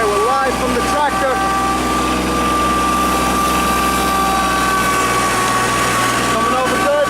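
Tractor engine running steadily with a loud, constant drone and hum heard from the cab during fall food plot work, while someone talks over it.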